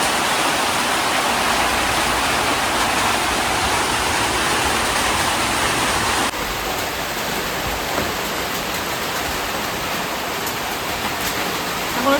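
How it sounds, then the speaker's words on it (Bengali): Heavy rain pouring down outside, a steady dense hiss that stays loud and even throughout, close and without talk. "তো বৃষ্টি চলছে, এখন 10টা বেজে গেল।"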